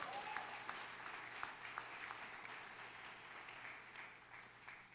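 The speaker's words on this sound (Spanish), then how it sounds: "Si le va a dar un aplauso, déselo a Dios." A church congregation applauds during a sermon, a steady wash of many hands clapping at moderate distance, fairly faint and even throughout with no voices over it.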